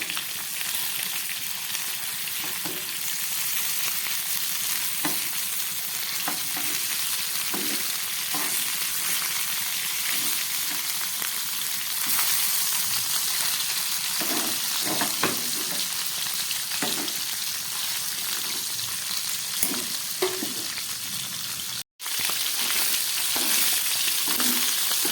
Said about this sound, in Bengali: ফ্রাই প্যানে রান্না করার এই সুবিধা, একবারে সমস্ত মাছগুলো আমি ভেজে নিতে পারি।